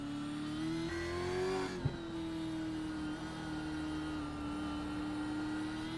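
A race car engine in the iRacing sim at Mid-Ohio road course holds a steady high drone, briefly dipping with a shift before settling again, loud and continuous with no talk.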